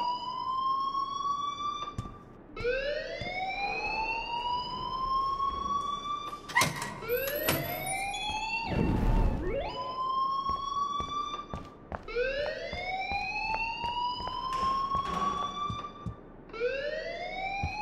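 An electronic alarm in the video game Life is Strange wails in repeated rising sweeps, loud and close, with a few sharp bangs and a thud in between.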